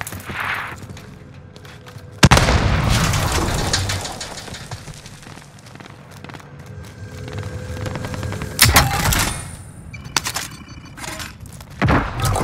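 A frag grenade blows up in the video game Warzone, a sudden loud blast that rolls into a long rumbling decay, followed later by further sharp bangs and bursts of gunfire.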